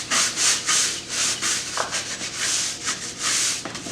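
Brisk rhythmic scrubbing of bumpy vinyl tolex covering on an 80s Peavey amp with foaming cleaner, a close, steady back-and-forth rubbing repeated in even strokes.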